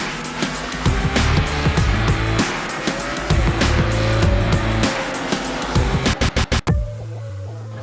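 A Triumph Daytona 765 motorcycle at full revs on the Brands Hatch circuit, a loud sustained engine howl rising and falling through gear changes, ending in a burst of rapid sharp pulses before cutting away.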